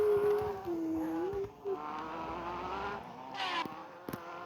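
A motorcycle engine in a racing video game drones and revs, its pitch rising and sliding, then dips and picks up again. Brief clicks and a short burst of higher noise punctuate it near the end.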